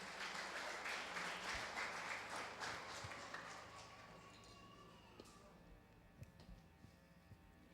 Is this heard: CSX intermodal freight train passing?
no